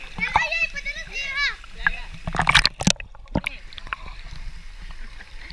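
Water splashes and sloshes around people swimming, with children's voices calling out and brief sharp splashes mid-clip under steady chatter.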